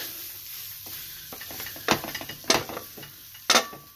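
Food frying with garlic in a pan, a soft continuous sizzle broken by three or four sharp clanks and scrapes as it is flipped and stirred, close by with no talking.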